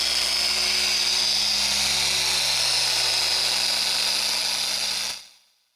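A power drill spins a polishing pad against a Honda Pilot headlight, giving a steady high-pitched whir with a grinding hiss that runs loud and close, then cuts off abruptly.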